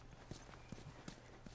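Horse hooves clip-clop in The Last of Us video game, a quick, regular series of light hoof knocks, fairly quiet and close, with no talk over them.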